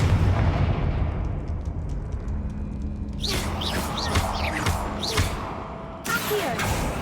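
A magical blasting spell detonates in a fantasy duel, a loud booming burst with crackling, swooshing bright bursts trailing after and a second blast near the end.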